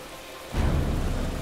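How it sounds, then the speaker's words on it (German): Heavy rain in the video game Heavy Rain bursts in suddenly as a dense, loud, steady downpour roar with low rumbling, replacing a quieter ambience and continuing to the end. "oh mein Gott, ist das ein Regen"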